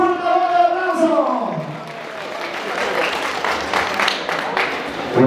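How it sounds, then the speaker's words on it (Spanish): Crowd applause and cheering greet a guest at an Andean Yaycupacuy celebration for godparents, rising after a voice fades out at the start and carrying on as dense, steady clapping for several seconds. "Vamos a recibir con un fuerte aplauso."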